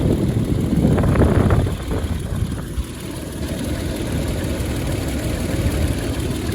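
A Toyota Tacoma engine idles steadily close by, a low even hum with a slightly louder rumble at the start, no talking.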